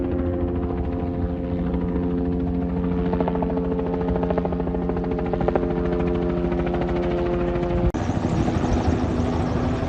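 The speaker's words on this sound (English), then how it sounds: "And we got a chopper circled twice right overhead." Helicopter circling low overhead near an abandoned canal bridge, a steady loud rotor chop and engine drone holding throughout with a brief sharp shift near the end, no voices.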